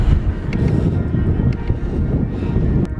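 Strong, steady wind roaring across the microphone during a long road bike ride into a headwind, a dense low buffeting rumble that fills the whole stretch with no voices.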